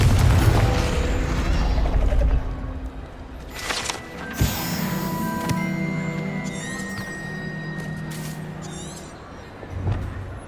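In the video game Hogwarts Legacy, a Confringo fire spell strikes with a few sharp blasts and impacts. Mechanical game effects and faint voices sit around them, and the blasts fade into background ambience.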